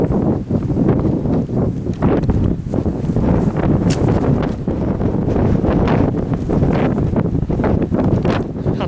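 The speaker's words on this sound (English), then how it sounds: "it's blowing a gale at the tops" Strong gale on the exposed hilltop tops of Moel Dywyll, loud continuous wind buffeting the microphone with steady roaring gusts throughout, no voices.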